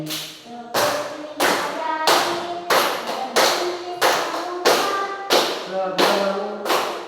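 Children clap their fingers in a steady rhythm during a finger-clapping song in a classroom, about ten sharp, evenly spaced claps with young voices chanting between them.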